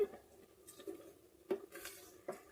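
Thick semiya kesari syrup is stirred in an electric rice cooker, giving soft, sparse scrapes and a few faint clinks of the spoon against the pot, quiet and close with no talking.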